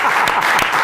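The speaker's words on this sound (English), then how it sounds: "Give him a round of applause." Audience applause at a live Scottish sports event, a steady wash of clapping from a crowd filling the room at close range, with no voices standing out.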